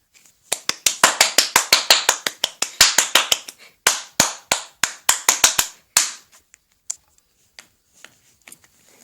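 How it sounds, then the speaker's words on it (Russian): Scattered hands clap in a quick, crisp run of distinct claps for a contestant at a children's hairstyle show, pausing briefly, then thinning out into a few isolated taps before stopping. "Встречайте громкими аплодисментами."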